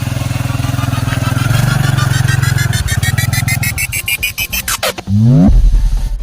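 A motorcycle, a habal-habal ride in the Philippines, roars close by with a steady engine drone that climbs in pitch, then sweeps past with a sharp falling whine, loud and near.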